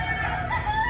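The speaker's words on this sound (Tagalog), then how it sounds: "Pasensya na sa manok." A rooster crows once, a loud, drawn-out call close by, over a faint low background hum.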